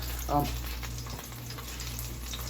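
Meat sizzles steadily in a hot pan with a constant frying hiss and low hum, a brief louder burst near the start, and a faint voice now and then underneath.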